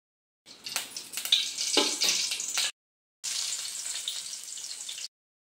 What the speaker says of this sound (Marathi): चल दी फोडणी.